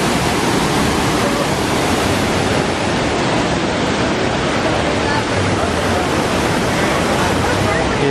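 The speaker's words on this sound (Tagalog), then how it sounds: "And this is the waterfall. Disneyland California Adventure." Waterfall at Disneyland California Adventure, a steady, loud rushing roar of falling water that fills the whole stretch without letting up, heard up close with no talking.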